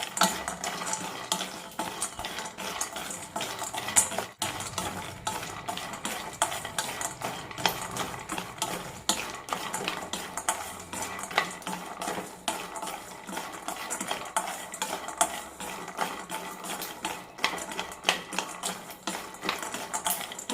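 Nuts stirred while dry-roasting in a pan with cardamom and dry ginger for homemade ABC malt powder, a steady rustling scrape and clatter running continuously without any talk.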